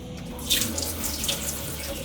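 A kitchen sink faucet runs steadily to wet whetstones for sharpening a knife, a close, continuous hiss of flowing water with no talking.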